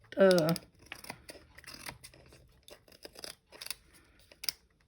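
Sheets of paper sliced with a guillotine paper cutter while making Christmas ornament gifts: a loud crisp cut at the start, then softer rustling, scraping and handling noises, with a person talking over them.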